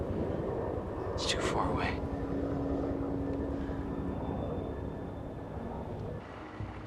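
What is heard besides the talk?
distant Huey helicopter flying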